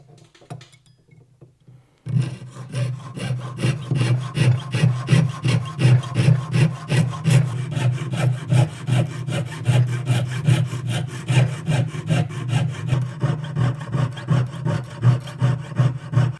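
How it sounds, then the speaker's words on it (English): A saw frame cuts around the edge of a brass plate, steady rapid back-and-forth rasping strokes starting after a brief quiet moment and continuing evenly, close and fairly loud. "use our saw frame and come through and cut around the exterior perimeter of the top plate"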